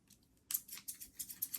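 A pair of Westcott scissors is handled up close, giving quick, quiet metallic snips and clicks in a short irregular burst with no talking.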